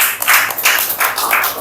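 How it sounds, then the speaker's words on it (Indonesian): A classroom group claps for the second group, a short burst of dense, close hand-clapping in several quick waves. "beri tepuk tangan untuk kelompok kedua"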